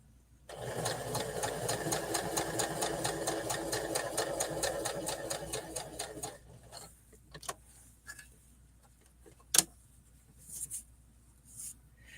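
A sewing machine stitching a rolled hem runs in a steady, rapid, close rattle for about six seconds, then stops, leaving a few scattered clicks and knocks.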